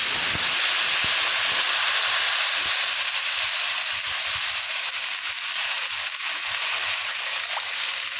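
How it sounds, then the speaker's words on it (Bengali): Water poured into a hot pan holding fried mustard paste gives a loud, steady hiss of steam and bubbling that fills the whole stretch, close up and without talk. "দিয়ে নাড়াচাড়া করে নিলাম, করে এবার জল ঢেলে দিলাম।"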